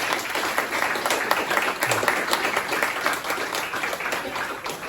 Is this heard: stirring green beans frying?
no